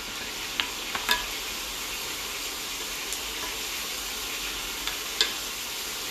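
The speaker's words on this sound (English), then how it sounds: "So far we have 4 chicken thighs frying behind me." Steady sizzling of chicken thighs frying in a pan, a constant crackling hiss with a few sharper pops, fairly quiet and close.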